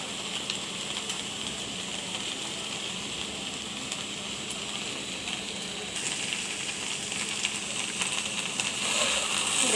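Okra frying uncovered in a pan gives a steady, close sizzle that runs the whole time and grows slightly louder near the end, with no talking.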